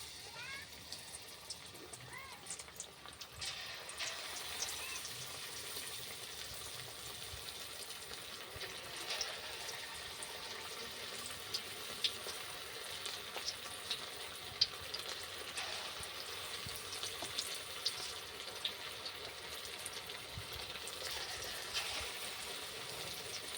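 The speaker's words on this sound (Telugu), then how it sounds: "ఇప్పుడు మనము వీటిని సొరకాయ ముక్కలు పిండిలో డిప్ చేసి వేసుకుంటే సరిపోయి." Batter-coated bottle gourd pieces deep-frying in hot oil, a steady soft sizzle and crackle running throughout at moderate level with occasional pops, and a person talking over it.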